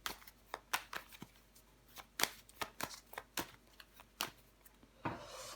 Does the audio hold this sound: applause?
no